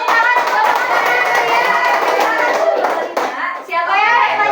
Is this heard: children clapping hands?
yes